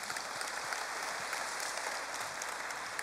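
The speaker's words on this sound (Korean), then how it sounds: "다시 한번 감사의 박수 부탁드립니다" A steady wash of applause fills the space as thanks after an address at a religious community gathering, moderately distant and even, with no voices over it.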